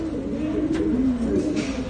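Pet pigeons cooing close by, a low, rolling, continuous coo that swells and dips, with faint rustling in the background.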